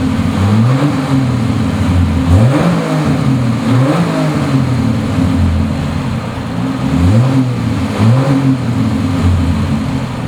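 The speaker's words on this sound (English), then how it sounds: "so I'll go ahead and fire it up so you can hear it" A 1970 Triumph TR6 with its six-cylinder engine running close by, idling steadily with a smooth throaty hum and several rising and falling revs spaced across the run.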